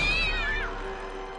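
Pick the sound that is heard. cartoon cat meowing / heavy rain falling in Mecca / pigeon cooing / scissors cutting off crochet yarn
cartoon cat meowing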